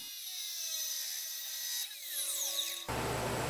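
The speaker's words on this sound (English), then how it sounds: "I then cut the excess off the other threaded end." Power tool cutting off the excess threaded end of a pin while repairing a tractor grader blade, a high whining tone that shifts in pitch before a harsher, louder cutting roar at the end.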